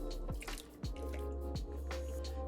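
Full cans of tomatoes are emptied into a pot of homemade spaghetti sauce. Three wet, glugging plops fall one after another over a low steady hum, close by and fairly quiet.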